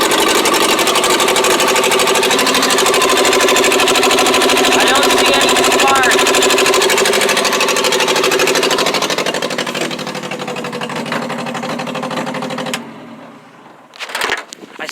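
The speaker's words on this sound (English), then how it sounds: "Let's turn the engine over again." A 1959 Morris Minor 1000 with an ignition fault cranks on its starter, a loud rapid rhythmic churning held steady for about twelve seconds without catching, then stopping, followed by brief clunks.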